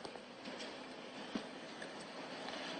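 A train rolls past near a large colony of bees, a faint, steady rumble with a soft clatter that swells slightly midway, with no voices.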